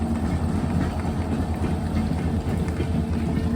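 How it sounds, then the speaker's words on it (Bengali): A train rolls past with a steady, heavy low rumble that holds at an even level throughout, with no voices. "ট্রেন দেখা যায় ট্রেন দেখা যাচ্ছে"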